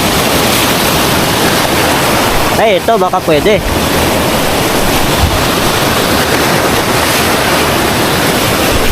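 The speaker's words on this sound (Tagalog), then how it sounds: "malalaki yung alon" Large ocean waves at a remote seaside fishing spot roar as a constant, loud wash of surf, and someone speaks briefly over the noise partway through.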